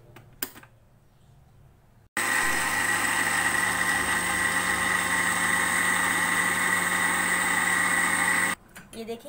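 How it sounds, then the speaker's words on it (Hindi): A kitchen blender whirs loudly and steadily for several seconds, blending mango milkshake with vanilla ice cream, starting abruptly and cutting off sharply; quiet moments before and after. "और अब इसको ब्लेंड कर लेंगे।"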